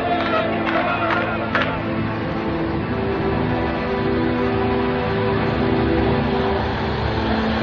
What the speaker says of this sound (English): A tumultuous crowd gathers at Lod Airport to welcome home the returning heroes.